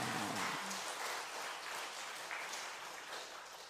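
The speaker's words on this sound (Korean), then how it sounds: "박수 한번 쳐주시길 바랍니다" Church congregation applause during a Sunday service, a soft, distant wash of many hands clapping that sounds like steady rain, fairly faint and gradually thinning over a few seconds, with no speech.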